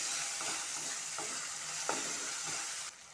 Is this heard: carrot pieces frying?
yes